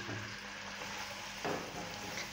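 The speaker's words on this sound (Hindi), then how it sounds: "इनको ब्राउन करना है प्याज को।" Onions fry and brown in hot oil in a kadai, a steady close sizzle with a brief stirring scrape partway through, with no voices over it.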